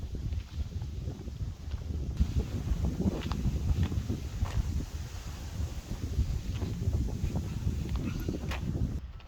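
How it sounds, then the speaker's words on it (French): Gusty wind buffets the microphone outdoors at a horse and pony stable, a loud steady low roar with rustling, nearby hoof and footstep sounds faintly mixed in. "Ouh, le vent."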